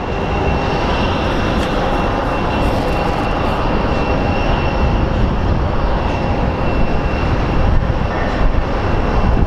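An American Airlines airliner arriving from Seattle passes over Phoenix Sky Harbor, a loud, continuous jet engine roar that holds steady throughout with no talk.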